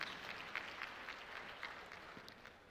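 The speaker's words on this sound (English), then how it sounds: "Another big round of applause, please, ladies and gentlemen." Audience applause at an evening welcome ceremony for the ICFPRI 2025 conference, a faint, steady wash of clapping from a crowd heard at a distance, lasting throughout without voices.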